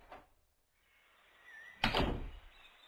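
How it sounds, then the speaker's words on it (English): A tunnel door swings open with a soft knock followed by a heavy thunk and a brief sliding scrape, all fairly quiet and alone with no talk. "When they open the tunnel door, the children see Grandma's garden."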